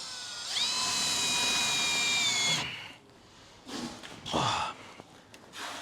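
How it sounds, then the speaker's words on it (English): A power drill whines steadily at high pitch for about two seconds, drilling out spot welds on a Mercedes-Benz W124 body, followed by a few short bursts of clanking and scraping. "So you want to drill out the rivets, the spot welds."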